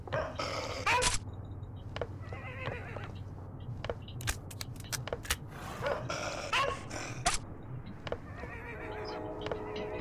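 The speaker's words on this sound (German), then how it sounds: "Mensch, wie viele Hunde haben die denn hier noch?" Dogs bark repeatedly in a video game, sharp yelps and barks scattered through the scene with some gaps, over a low rumbling background.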